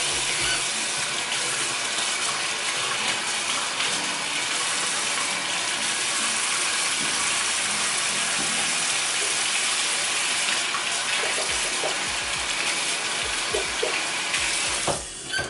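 A houseplant, a Hoya, gets rinsed under a running tap, with a steady close gush of water splashing through the leaves for the whole stretch, then tapering off briefly at the end.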